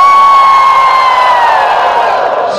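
Concert audience at an unplugged university show cheering and making noise on cue: a loud, sustained wall of crowd shouting and whooping with high-pitched voices held for the whole stretch, fading slightly at the end.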